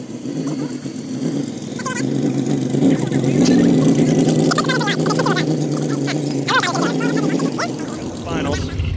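During a tug of war, a Ford pickup in two-wheel drive and a four-wheel-drive Suburban rev their engines, with a sustained loud drone that swells and strains as people shout and talk over it.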